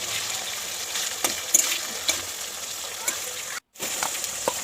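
Chicken pieces fry in hot oil with a steady close sizzle and occasional stirring clatter, interrupted by a brief dropout near the end.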